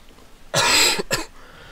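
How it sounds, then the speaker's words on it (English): Two quick, harsh coughs close to the microphone, the first longer and louder, the second shorter, in otherwise quiet surroundings. "Sorry about all these coughs."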